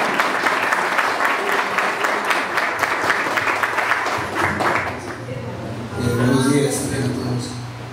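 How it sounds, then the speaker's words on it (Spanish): Guests at a baptism celebration applaud the honourees, steady clapping for about five seconds, then fading into room murmur with a voice speaking at the end. "Tiene el aplauso para los homenajeados,"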